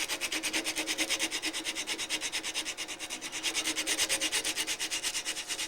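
Hand sanding of a small turned wooden ornament with sandpaper, rounding off an edge about 3/16 inch wide; a steady, close rhythmic rasp of rapid back-and-forth strokes runs throughout with no talking.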